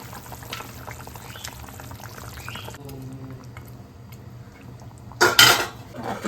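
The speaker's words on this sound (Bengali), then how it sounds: "ঝোল ফুটে গেছে এবার মাছগুলো দিয়ে দিই" Pot and utensil clatter sounds over a simmering Bengali fish curry, then fish pieces drop into the boiling broth with a sudden loud splash and hiss near the end.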